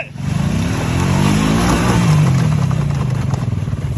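A Honda 300 6x6 ATV engine held at full throttle outdoors, a loud, close, sustained rev whose pitch climbs slightly and then holds steady.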